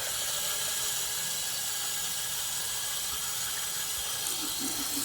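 Hotel faucet water running fast into a sample bottle, a steady hissing rush of flow held throughout at moderate level, with a faint gurgle near the end and no talk.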